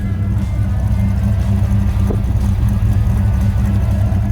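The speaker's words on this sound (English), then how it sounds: "Got a little bit of a lope to it, like a 327, 350 horsepower should." A 1957 Chevrolet Sedan Delivery with a 327 cubic-inch, 350 horsepower V8 idles with a slight lope, a steady, close, loud low rumble that runs on evenly with no talk over it.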